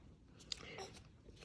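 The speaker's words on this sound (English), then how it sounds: "Sorry if you hear me chewing. I'm eating some leftover fajitas I made last night." Close, faint chewing of leftover homemade fajitas, with a few soft crunchy bites in quiet surroundings.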